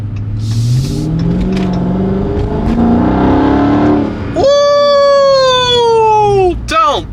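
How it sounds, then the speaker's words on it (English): 2023 Chrysler 300C with mufflers removed pulling out onto the road, a loud, close exhaust note rising with acceleration, then a sharp high-pitched rev and shriek near the end. "pulling out on the road with the mufflers taken off. We're going to see how this thing sounds"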